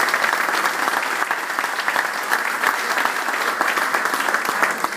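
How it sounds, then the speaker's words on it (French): Sustained audience applause fills the room at an awards event in Avignon, dense steady clapping from a seated crowd with no talk over it. "On peut l'applaudir également."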